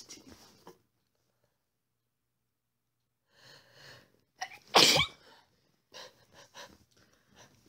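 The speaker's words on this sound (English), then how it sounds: "You sneeze like a kitten." A single sharp, small kitten sneeze bursts out midway, surrounded by soft breaths and sniffs in an otherwise quiet room.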